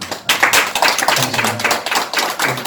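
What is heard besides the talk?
audience applause at a commemorative conference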